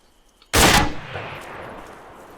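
A single loud, close gunshot in ArmA 3, fired from a 5.56 rifle, with a sharp crack followed by a long echoing tail that fades slowly.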